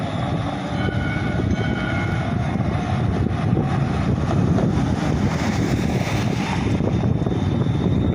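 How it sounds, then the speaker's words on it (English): Magnolia Park train pulling into a busy stop, a steady broadband rumble and hiss with high tonal squeal lines, rising slightly mid-clip, with no talk. "And here comes the Magnolia Park train."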